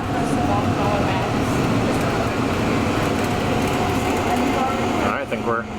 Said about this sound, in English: It's a tram car.